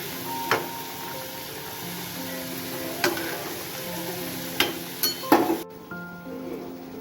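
A green jackfruit and prawn curry is stirred in a pan, giving a few scattered clinks and scrapes of the spoon over a low steady simmering hiss, fairly close, with no talking.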